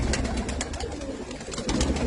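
Pigeons at a village sarpanch's home coo softly and repeatedly, low murmuring calls close by over a busy rustling background, with no speech.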